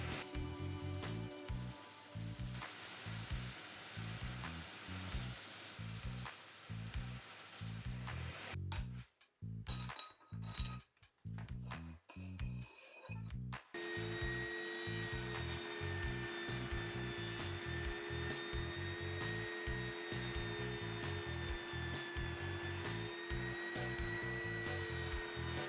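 Drum sander fitted with coarse P80 grit working a wooden cutting board, a loud steady machine drone with rhythmic pulsing and a brief break midway where the machine pauses before resuming.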